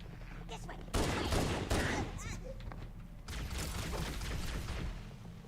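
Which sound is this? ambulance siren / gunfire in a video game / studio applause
gunfire in a video game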